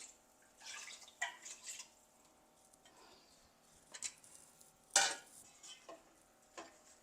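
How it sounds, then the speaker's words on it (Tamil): Water pours and splashes into a pot of rice for brinjal biryani in short bursts, with light stirring and clinks of utensils, fairly quiet and close. "இந்த தண்ணியை சேர்க்குறேன் நான்"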